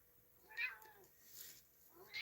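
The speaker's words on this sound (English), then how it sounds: "My cat's been extra noisy tonight." A house cat meows twice indoors at night, one clear cry followed by a softer one, fairly close and alone without talk.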